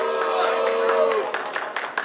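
A crowd at a freestyle rap battle for duos cheers and makes noise with a broad, steady roar and scattered claps, a sustained shout riding on top before fading slightly.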